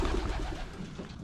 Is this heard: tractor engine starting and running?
no